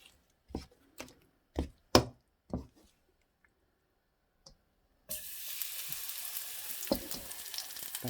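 A kimchi pancake fries in soybean oil, several sharp knocks and clicks of utensils at first, then a sudden steady sizzle that continues to the end.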